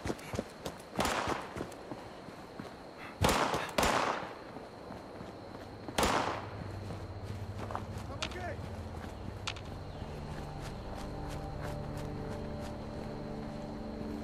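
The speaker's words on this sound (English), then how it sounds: "who's shooting?" Scattered gunshots crack in Fallout 76: a few loud, sharp reports stand out early, then fainter shots pop farther off, with voices and quiet game ambience continuing in between.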